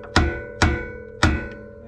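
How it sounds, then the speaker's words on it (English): A hammer strikes a screwdriver used as a chisel on a car axle nut during a hub and axle swap on a Nissan 350Z: three sharp metallic taps, close and evenly spaced, with no talking. "you just get a screwdriver, hammer, kind of use it like a chisel."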